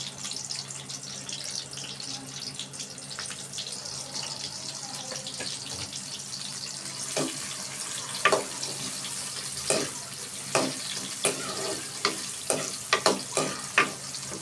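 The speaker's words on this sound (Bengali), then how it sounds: "পেঁয়াজ এখানে না আসা পর্যন্ত আমি পেঁয়াজটা এভাবে নাড়তে থাকবো।" Chopped onions fry in hot oil for a long bean and potato bhaji, a steady soft sizzle broken by spatula scrapes and taps that grow more frequent toward the end.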